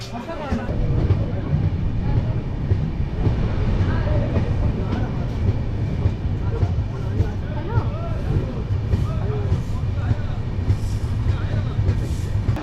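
A Tamralipta Express passenger train rumbling along at steady speed, low droning rattle close by, with faint voices in the carriage.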